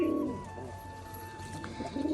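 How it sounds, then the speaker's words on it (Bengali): A Rajshahi pigeon coos in soft, repeated low rounds, close by and alone, with a faint steady tone running underneath. "আর বিস্কুটের ডাক দেখুন, শুধু খুব সুন্দরভাবে ডাকছে"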